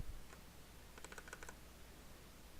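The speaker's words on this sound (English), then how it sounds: "I have to move my keyboard." A computer keyboard is typed on in a short burst of quick, quiet key clicks, close but faint against a low background hum, with no talking.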